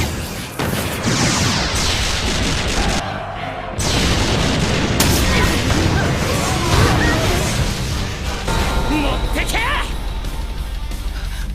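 A loud anime explosion sets off booming blasts and a rumbling roar as fire and water arrow magic strike. A brief drop-out comes partway through before the rumbling resumes, with a narrator talking over it.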